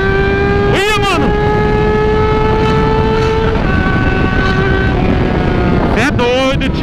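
Close revving of a four-cylinder Yamaha Fazer 600 motorcycle engine: a sharp throttle blast at the start, a falling rev held at a steady drone, then another rapid surge near the end, with no talk.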